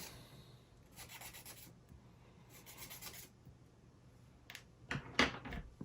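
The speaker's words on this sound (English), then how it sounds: "18 needs to be sanded" A small wooden part from a UGears Windstorm Dragon mechanical model kit is sanded by hand in two short bursts of quiet rasping strokes, followed by a few light knocks and handling noises.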